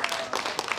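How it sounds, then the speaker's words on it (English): Audience applause after a talk on Atlanta jails, a short burst of scattered clapping at moderate level, broadband and fairly even throughout. "So a big round of applause for Capital B."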